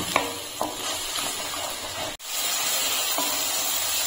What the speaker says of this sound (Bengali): এখন এই জল দিয়ে মশলাটাকে আরেকটু ভালো করে কষিয়ে নেব